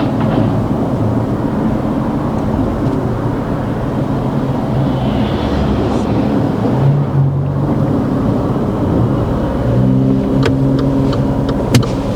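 A car pulls away during a driving lesson, heard from inside the cabin as a loud steady engine drone with a broad road rumble that rises slightly as it moves off, with no talking.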